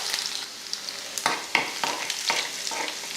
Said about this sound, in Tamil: எண்ணெய் காஞ்சதுமே கொஞ்சம் சீரகமும் கொஞ்சம் கடுகு சேர்த்து பொரிய விட்டுறலாம்.